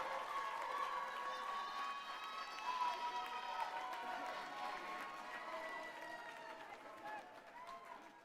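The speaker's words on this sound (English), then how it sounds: "look for your families and loved ones and give them a round of applause" Graduates at a college's 50th commencement turn and applaud their families, a diffuse, fairly faint roar of clapping and crowd murmur with scattered cheers echoing through a large hall.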